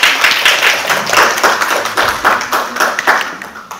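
Audience at a panel discussion on SME ESG supply chains clapping in a brisk, close burst of applause, nearly four seconds long.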